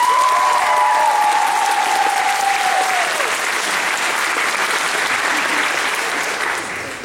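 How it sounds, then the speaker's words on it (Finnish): Loud, dense applause from the audience at an anime convention opening ceremony in Kuopio, cheering a cosplay dance group. A brief whistle-like tone rides over the start before the clapping continues and slowly tapers. "Aplodit vielä heille."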